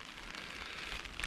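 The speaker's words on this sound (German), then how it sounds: "natürlich regnet es wieder" Rain falls steadily over a coastal dune reserve, a soft, even hiss of drops with no other clear sounds.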